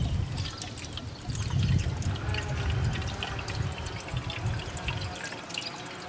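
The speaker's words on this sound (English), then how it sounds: "So we'll just fill it up with water." Water pours and gurgles close by, streaming steadily into a camp kettle for several seconds with a light splashing texture.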